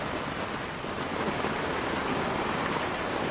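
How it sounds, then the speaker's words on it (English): Heavy rain pours outside a coffee shop, a constant broad hissing roar, steady and fairly loud with no talking. "Let me show you just how hard it's raining."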